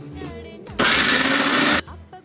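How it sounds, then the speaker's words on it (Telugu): A kitchen mixer grinder whirs loudly for about one second in a short, steady burst while rice flour dry upma is being made, with voices talking just before and after. "మిక్సీ పడుతుంది."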